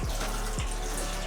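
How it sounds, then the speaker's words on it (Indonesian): Tap water runs steadily into a sink while celery stalks are washed, a continuous close splashing rush with brief gurgles and drips, no voices. "Ini seledrinya juga kita cuci"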